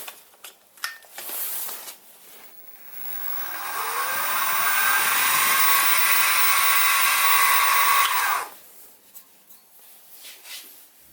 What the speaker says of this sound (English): I'll centre drill each one and then drill